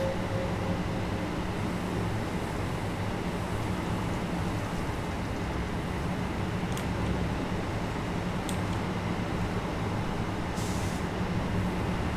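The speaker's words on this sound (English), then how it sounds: "that train departing for" Steady train rumble from a Seaford to Brighton service in Train Sim World, a constant low mechanical drone with faint air hiss and brief higher clicks, close and continuous without talk.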